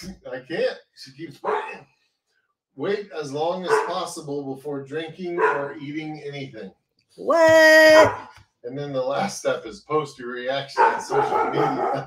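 A dog barks and yips indoors in one short, loud, strained burst, surrounded by people talking close by during a spicy chip challenge.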